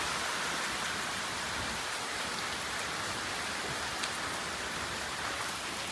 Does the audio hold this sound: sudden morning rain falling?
yes